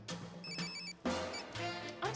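A telephone rings in the 2005 horror film Tamara, its electronic tone repeating in short bursts over a background music score, fairly loud and close.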